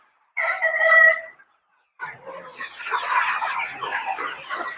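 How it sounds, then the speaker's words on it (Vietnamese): A flock of chickens being treated for ORT respiratory disease, a day after one injection, with one loud rooster crow up close and then a stretch of continuous clucking and chatter from many birds. "Đây là đàn gà sau khi tiêm được 1 mũi."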